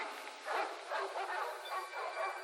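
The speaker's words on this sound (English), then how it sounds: "They're barking now." Dogs bark on a vintage Disney story record, giving a run of repeated yips and barks that sound slightly distant through a thin, narrow-band recording, with no speech over them.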